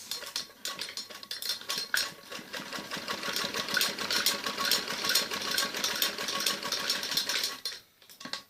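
A sewing machine runs steadily while stitching down a fabric strip on an umbrella frock, its needle chattering in a fast mechanical rhythm with brief pauses near the start and end.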